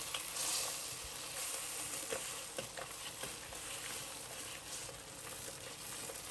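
Cornstarch slurry stirred into sizzling lobster sauce in a hot wok, a steady close frying hiss with scattered soft clicks and scrapes of the stirring utensil, no voices.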